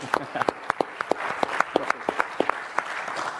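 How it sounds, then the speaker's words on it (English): Applause from a live podcast audience, a steady wash of clapping with sharp individual claps standing out, moderately near and sustained throughout with no talk over it. "let's give him a round of applause"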